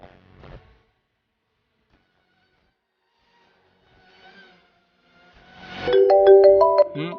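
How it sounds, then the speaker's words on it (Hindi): An electronic ringtone of rising and falling stepped tones plays loudly near the end, after a stretch of near silence and a brief faint sound. "ये किसका फोन आ रहा है?"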